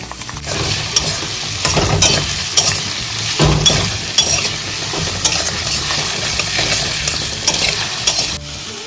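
Onions and green chillies fry in a pan with a steady sizzle, punctuated by scraping and stirring clicks from a spatula, close and continuous with no voices.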